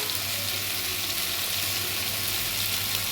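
Tomato frying in a pan over a low gas flame while cooking green egg curry, a steady close sizzle that runs unbroken throughout with no voices.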